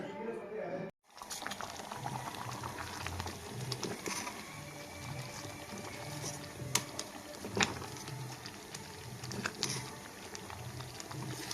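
Millet and tomato rice water boiling in a pot, a steady close bubbling and gurgling that runs throughout with a brief drop near the start, and faint talk in the background.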